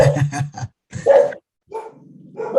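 Several dogs bark in quick bursts, loud and close, in a home where someone has just knocked on wood, with short pauses between volleys and a lower growling or whining tone in the later part.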